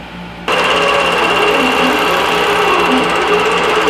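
Computerized embroidery sewing machine stitching a digitized feather design, starting abruptly and then running as a loud, steady, rapid mechanical whirr with fine repetitive needle clatter, close by.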